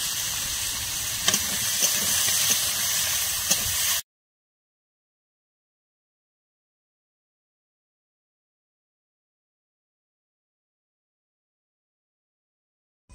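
Balia fish frying desi style in a pan with onion and green chili gives a steady crackling sizzle for about four seconds, then stops abruptly into silence.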